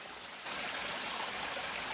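A Canadian creek flows with a steady broadband rush that swells slightly louder after the first half second, close and continuous, with no voices.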